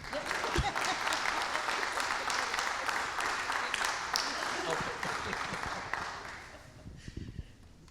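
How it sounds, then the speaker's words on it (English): Audience applause fills a conference hall at a church-style gathering, sustained and dense for several seconds before thinning out toward the end. "You can clap again."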